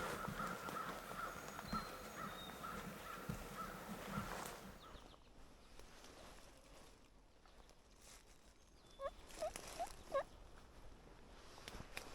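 A wild turkey gobbles in Virginia woods during spring hunting season, a faint distant rattling call heard after quieter rustling outdoors.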